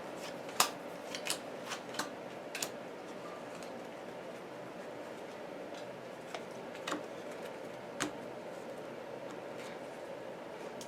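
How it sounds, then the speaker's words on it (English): A deck of cards for the Arkham Horror card game is shuffled at a table: a few quick riffle clicks near the start, then quiet handling with occasional soft taps. "Wait, I gotta shuffle this."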